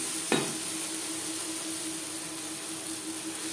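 Onions fry in a pan with salt and turmeric, a steady close sizzle hissing throughout, opened by a single short scrape of a stirring utensil against the pan.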